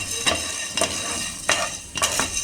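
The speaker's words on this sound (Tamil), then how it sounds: "நம்ம ட்ரை சாட்டேஜ் தான் வந்து பண்ணுறோம்" Spices for a brinjal gravy are dry sautéed in a pan, with a spoon scraping and stirring in four distinct strokes over a soft, continuous sizzle close at hand.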